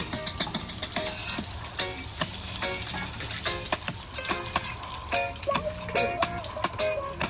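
Kingfish fries in grease in a frying pan, a steady crackling sizzle with sharp spatters and pops that comes in bursts throughout, with no voices.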